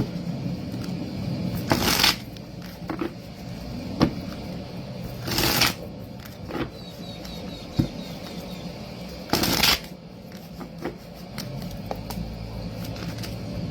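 Tarot cards are shuffled in three quick riffling bursts, each about half a second long, spaced a few seconds apart, close and crisp over quiet handling noise.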